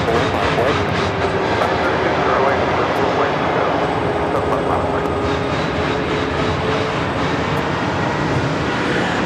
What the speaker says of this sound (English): Southwest Airlines in the Colorado 1 livery, flight 992. Still on the 737 at 700.